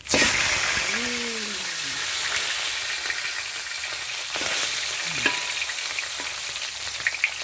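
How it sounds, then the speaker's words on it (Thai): Indian mackerel (pla thu) frying in a pan of hot oil over medium heat, producing a loud continuous sizzle with occasional spatters and a brief tonal whine early on. "เดี๋ยวเราจะมาทอดปะทูหอมกันนะจ๊ะ"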